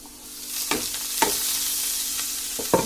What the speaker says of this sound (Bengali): এখন আমরা এই পর্যায়ে যে শাকগুলো আছে সেটার মধ্যে দিয়ে দিচ্ছি।